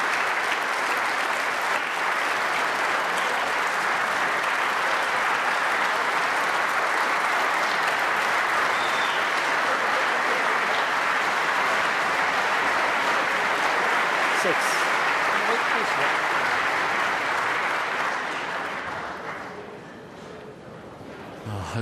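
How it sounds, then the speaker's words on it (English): Snooker crowd at the UK Championship quarter-finals applauding a finished match: dense, sustained clapping from a large indoor audience that fades toward the end, with some voices underneath. "hopefully the crowd will quieten now that that match is finished on the other table"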